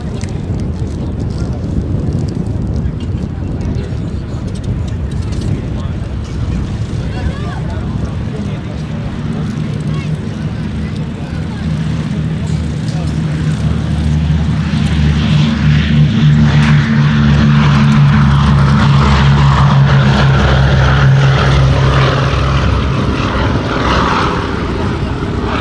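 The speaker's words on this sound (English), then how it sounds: "as it's about to do the Boeing B17-G flying fortress named Sally B." Four propeller engines of a Boeing B-17G Flying Fortress bomber drone steadily in the open air at Duxford Air Festival, building louder with a deep rumbling hum, wind buffeting the microphone and a voice talking over it.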